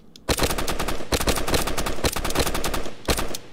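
Rapid automatic gunfire from a gun in the video game Banana Shooter, loud close bursts of shots with brief pauses between them.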